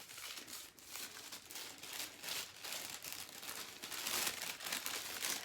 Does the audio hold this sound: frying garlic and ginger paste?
no